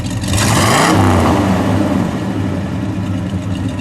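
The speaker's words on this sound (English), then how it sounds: "Oh, that's a nice sound. Give it a rev, please." Up close, the R2 V8 of a red 1963 Studebaker GT Hawk with a Simmons exhaust blips in a quick, loud rev. The rev falls away into a rumbling, burbling idle that continues to the end.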